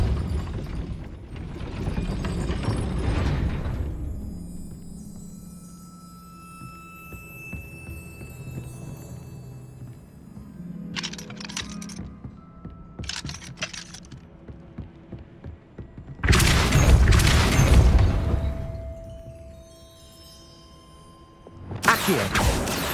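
A Depulso force spell cast in Hogwarts Legacy lands as a loud, sudden whooshing blast with a rumbling boom. A second burst of similar strength follows near the end, among quieter magical effects and low game ambience.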